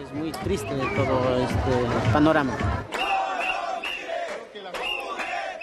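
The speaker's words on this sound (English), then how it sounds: "This crowd is protesting a scheduled eviction" A crowd protesting a scheduled eviction in a Spanish city chants loudly in unison, followed by rhythmic clapping and scattered shouts from many people.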